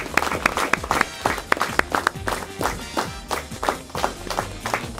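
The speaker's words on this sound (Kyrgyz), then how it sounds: "Бир кол чабуулар болсун командага." A small audience applauds a young team at the end of a quiz game, with scattered, uneven hand claps at close range that rise and thin out over several seconds.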